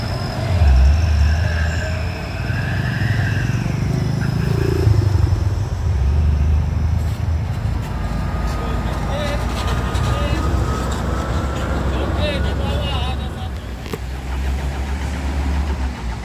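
Heavy truck engine straining and failing to climb a hill until it smokes, a loud low rumble with shifting revs, mixed with voices talking and other traffic noise around it.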